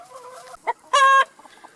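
Chickens of a newly arrived backyard flock cluck and squawk close by in short bursts, one louder drawn-out call standing out among softer clucks.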